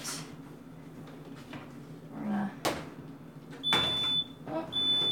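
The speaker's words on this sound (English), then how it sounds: "My smoke detector is already going off and I haven't cooked anything" A smoke detector's high electronic beeping tone sounds twice near the end, sharp and piercing, after some soft clunks and knocks of household movement in a kitchen.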